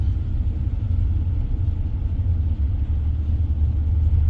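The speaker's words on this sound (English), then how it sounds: "You can hear the diesel motor, but it's not overwhelming." A low, steady diesel engine rumble heard from inside the cab of a 2024 GMC Sierra 3500HD Denali 1-ton pickup, muffled and even, with no voices.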